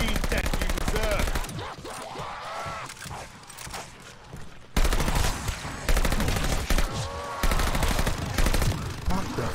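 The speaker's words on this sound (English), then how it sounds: "What the fuck is shooting at me? Whatever it is, it hurts." Rapid machine-gun and rifle fire in Call of Duty: Vanguard, loud bursts aimed at the player, coming in clustered volleys with short pauses and a sharp, heavy barrage near the end.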